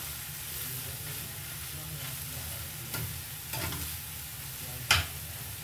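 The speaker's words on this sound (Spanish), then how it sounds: "Mezclo un poquito." Beef tinga is stirred in a hot pan, a steady close sizzle and frying hiss with a few scraping strokes of the spoon and one sharper clack near the end.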